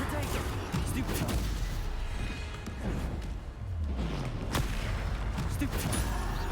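Bombarda spell explosions in the Hogwarts video game, a continuous barrage of booming blasts and crashes layered over rumbling game noise.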